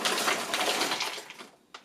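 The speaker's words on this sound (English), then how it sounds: "Next you want to add frozen fruit up to the max fill line" Frozen fruit tumbles into a Ninja Foodi blender cup as a brief, close, dense rattle and clatter of hard pieces, trailing off with one last small knock.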